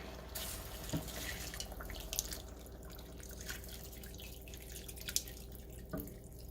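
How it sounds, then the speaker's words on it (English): Water poured into a pot of lamb stew with spices, a quiet steady running-water splash with a few faint drips and clunks, fairly soft and close. "Now we're gonna add in that water."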